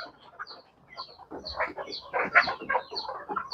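Chickens cluck in a short, uneven series of calls on a farm, with goats also kept nearby; the clucks are fairly close and grow busier and louder partway through, with no talking over them.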